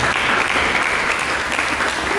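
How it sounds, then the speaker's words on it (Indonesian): Applause from a church congregation, steady dense clapping filling the room at close range, loud and continuous with no voices over it. "Berikan tepuk tangan."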